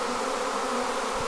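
Honey bees buzz steadily around an opened hive while a swarm is hived and split, a dense continuous drone close up with no voices.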